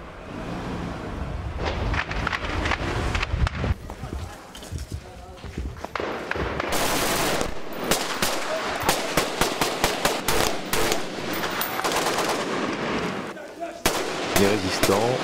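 Urban combat in Libya brings bursts of gunfire and heavy cannon shots from a patched-up tank, sharp cracks and booms echoing among buildings, mixed with movement and voices.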